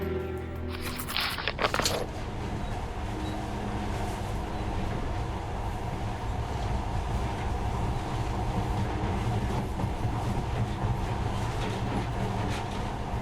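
A monorail ride in Metro Last Light: after a brief bright burst at the start, the carriage settles into a steady rolling rail rumble with faint rhythmic clatter, continuous and close, with no voices.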